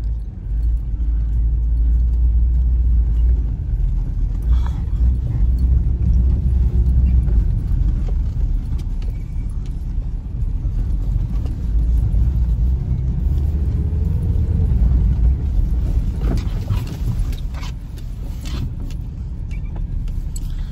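A car rumbles heavily as it climbs onto a narrow one-vehicle bridge near a property, a loud, close, continuous low roar with occasional clattering thumps, and a voice speaks briefly over it.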